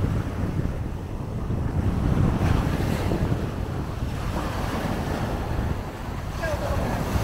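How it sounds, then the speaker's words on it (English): Big ocean waves crash and roll continuously in a loud, steady roar of surf, with wind buffeting the microphone throughout. "These big waves."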